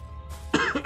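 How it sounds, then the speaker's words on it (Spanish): A person with a lingering cough from a recent illness lets out two or three short, close coughs in quick succession after a quiet moment. "todavía tengo un poquito de tosecilla por ahí remanente de mi enfermedad"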